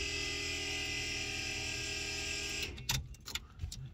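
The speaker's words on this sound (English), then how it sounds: "fuel pump is now wired into our truck" Electric fuel pump in a race truck priming with a steady, close electrical whine and buzz after the key is turned on, then cutting off into a few light clicks and small handling noises.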